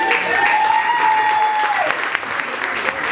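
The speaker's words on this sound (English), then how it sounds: "Keep clapping, keep clapping, keep clapping, keep clapping." Comedy club audience at Busboys and Poets in Baltimore applauds in a dense, loud wash of clapping that holds steady for about three seconds, with a sung or voiced tone over the top.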